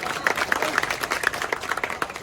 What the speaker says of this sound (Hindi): जोरदार ताली बजाकर स्वागत करेंगे उनका